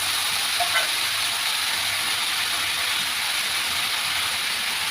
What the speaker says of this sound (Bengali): সয়াবিনটা দিয়ে একটু নাড়ু চাড়বো